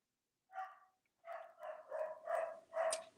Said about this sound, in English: my dog will not be quiet